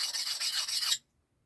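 Knife blade rasping steadily across a rough sharpening stone while shaping its convex bevel, a close, continuous gritty scrape lasting about a second before stopping abruptly into silence.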